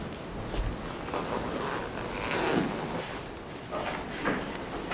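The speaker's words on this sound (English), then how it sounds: "And then you would do the zipper all the way up to here?" A zipper drawn up on a garment backstage at a fashion runway competition, a few soft, short rasping pulls spread across a quiet, noisy room.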